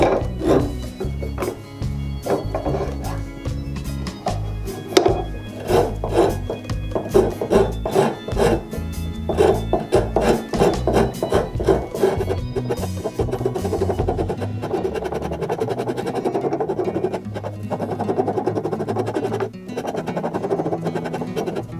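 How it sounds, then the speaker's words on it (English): Wood rasps work a Krenov-style wooden block plane body by hand, producing repeated scraping strokes in an irregular back-and-forth rhythm, close and fairly loud, with no talking. "we're gonna take some rasps and we're gonna shape this to fit the way it feels comfortable to us."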